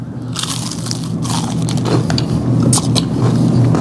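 Close crunching of breaded chicken being bitten and chewed, a dense crackly texture that runs steadily for several seconds without speech.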